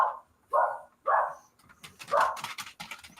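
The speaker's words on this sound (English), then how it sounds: "And there's the dog." A dog barks several times in close succession, loud and near, with a short pause before another burst of barks and yelps.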